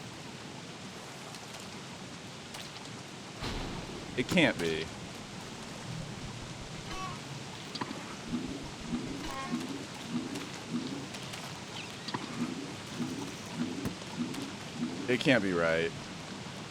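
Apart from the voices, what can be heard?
frog rain in Don't Starve Uncompromising Mode video game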